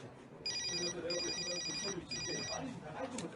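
A telephone rings in a Korean drama scene, its electronic trill sounding in three bursts with short gaps, fairly loud, over a murmur of background voices and room noise.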